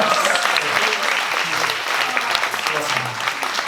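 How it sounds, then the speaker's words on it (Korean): Loud, sustained applause from a large audience at a Korean talk show lecture, steady clapping filling the whole stretch without pause. "아들 네 분을 키우고 계시는 박사님께 위로의 박수 한 번 더 부탁드립니다."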